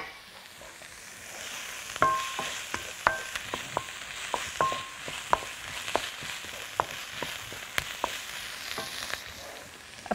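Ginger and spices fry in a pan with a soft continuous sizzle, broken by sharp clinks and scrapes of a utensil stirring at an uneven rhythm, close by and with no talking.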